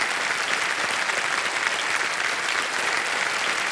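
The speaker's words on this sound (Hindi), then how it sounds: "तालियां बज जाएं इनके लिए।" A studio audience at a televised quiz show breaks into sustained, dense applause, an even wash of clapping that fills the room without pause.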